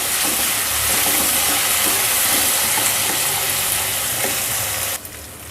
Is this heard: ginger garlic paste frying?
yes